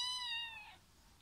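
A kitten gives a single clear, high meow up close, with a drawn-out tone that trails off after about three quarters of a second, heard alone in a quiet rural setting.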